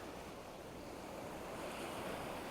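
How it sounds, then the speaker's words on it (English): Atlantic Ocean waves lap against white sand on a South Carolina island beach, a steady, even wash of surf with a faint airy hiss of wind and no voices. "the Atlantic Ocean lapping against the white sand"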